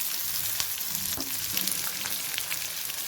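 Thinly sliced onions frying in hot oil, a continuous close hiss and crackle with a few faint stirring knocks.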